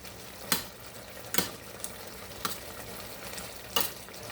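Ground meat for smoky sloppy joes sizzles softly in a pan, broken by about five sharp scraping stirs spaced a second or so apart, quiet and close with no voices.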